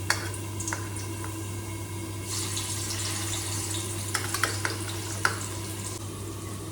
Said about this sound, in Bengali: মাছগুলো এখন একটা একটা করে আমি কড়াইতে সমস্তটা দিয়ে দেবো